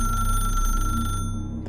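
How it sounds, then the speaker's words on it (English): An old-fashioned telephone bell rings loudly and steadily in a house, a continuous metallic trill that cuts off abruptly near the end. "but yet it rang like an old-fashioned bell."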